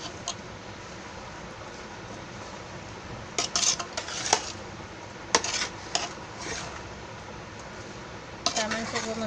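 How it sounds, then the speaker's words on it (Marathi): Raw mango pickle mixture being stirred in a pot, with intermittent clinks and scrapes of a utensil against the metal over a steady background hiss, louder bursts of scraping coming in clusters. "म्हणून असं ढवळत राहायला लागतं."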